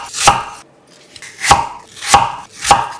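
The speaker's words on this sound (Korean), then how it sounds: "껍질을 벗겨서 듬성듬성 썰어" A knife chops a peeled apple half into rough chunks, four crisp, separate strokes close by against a cutting board.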